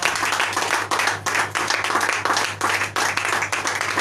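A church congregation clapping together in steady, rhythmic applause, loud and close, with a low hum and faint voices underneath.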